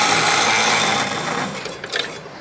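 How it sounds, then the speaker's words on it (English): A saw on a TigerStop automated stop system runs steadily, cutting through material with a continuous loud whine and grinding rasp that eases slightly toward the end. "I'm gonna go ahead and start my saw."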